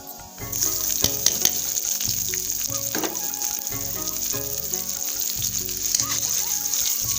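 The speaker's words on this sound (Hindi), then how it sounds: "तेल गरम हो चुका था तो मैं इसमें डाल देती हूँ जीरा।" Chopped onion and cumin seeds frying in hot oil in a home kitchen, giving a steady, loud, even sizzle that runs throughout with a few soft stirring clicks and scrapes on top.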